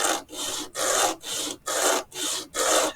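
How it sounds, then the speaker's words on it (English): A piece of wood being sanded over a block for a model house, heard as six regular back-and-forth rasping strokes, each a loud, close scratchy rub separated by brief pauses. "I'm just going to take this and sand it over a block."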